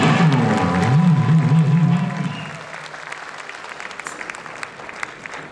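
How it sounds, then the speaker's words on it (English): A concert crowd applauds the band during the 2009 Back to Life Tour, with the music's final held notes ringing at first before loud clapping takes over and gradually thins out. "Please, a special applause for my band!"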